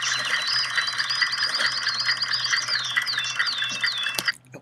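Steady bird chirping and tweeting, busy and continuous, with a low hum beneath it, as one layer of an audio collage; it stops abruptly near the end.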